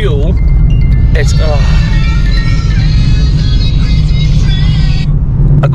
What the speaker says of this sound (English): That's probably the exhaust rattling on the back.